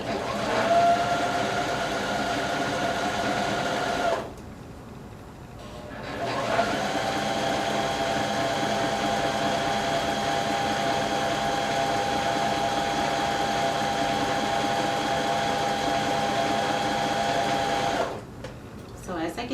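A sewing machine runs in long steady bursts while stitching ruffles onto leggings, with a sharp whine, two short pauses and a close mechanical drone.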